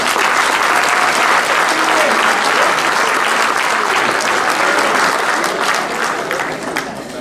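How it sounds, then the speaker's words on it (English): An athletic banquet crowd gives the 2016 freshman team a round of applause, loud, dense clapping from many hands that stays full for most of its length before tapering slightly at the end. "You guys stand back up and get a round of applause again."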